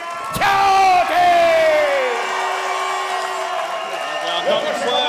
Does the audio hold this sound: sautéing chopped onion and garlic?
no